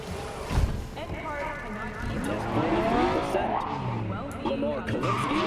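In Cyberpunk 2077, a car drives off with tires squealing and skidding and the engine droning under ongoing talk throughout.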